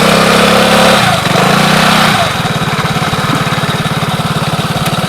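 A Vespa scooter engine cranks and catches, then settles into a steady, close putt-putt idle with a rapid even pulse.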